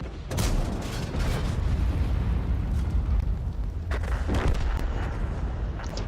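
An E75 tank's main gun firing in a tank video game, a heavy booming blast with rumbling low end that fills the stretch, with a few sharper cracks partway through and no speech.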